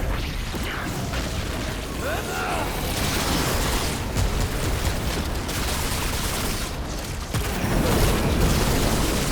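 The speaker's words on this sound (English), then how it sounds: "Just explosions everywhere, and that's the whole point." Dense, continuous barrage of explosions from a Thorn and Starkiller build in Remnant 2, loud overlapping booms and crackling blasts with mechanical clatter filling the whole stretch, a heavier burst near the end.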